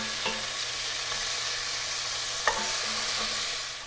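Brisket searing in a hot pan gives a steady, even sizzle throughout, with a couple of faint knocks from utensils and no talking.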